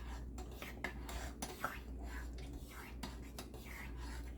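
A spoon stirring thick peach plum butter in a pot, quiet scraping strokes and a few soft taps against the pan, close-up and faint, with no talk.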